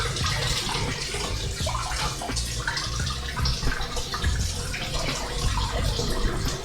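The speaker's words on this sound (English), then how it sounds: "I am going to heat the knife under hot water" Hot water running from a kitchen tap over a knife, a steady, close splashing rush with bubbly spatter that goes on throughout.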